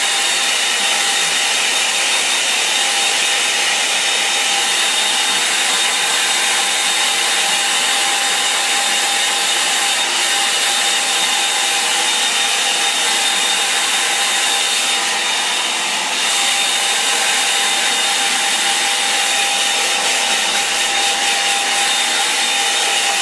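A hair dryer drying a watercolour line-and-wash painting, blowing in a steady, loud, unbroken whoosh with a high whine, running alone with no talk throughout.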